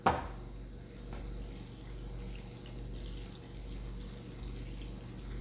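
Water poured into a casserole dish with chicken, rice, onions and mushrooms, a soft, steady trickle and splash after a brief initial clink, fairly quiet and heard alone.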